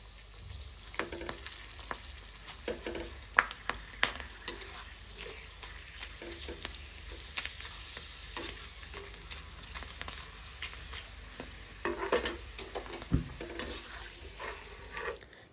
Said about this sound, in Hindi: अभी मैं अपने लिए थोड़े से आलू के चिप्स फ्राई कर रही हूँ